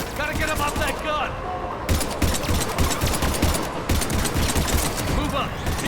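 A mounted gun on a mountain position fires in the video game Mass Effect 3: dense, rapid bursts of gunfire crackling loudly and continuously, with shouting voices mixed in the din.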